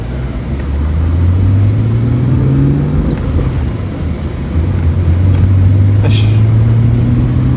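The 2.8 twin cam engine of an 1980s Toyota Cressida hums steadily from inside the cabin, its pitch rising gradually as it revs, with a couple of faint clicks.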